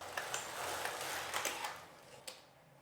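Locks on a Passap Duomatic 80 knitting machine being slid across the needle bed, a soft continuous mechanical scraping and rattling with a few small clicks, close and fairly quiet.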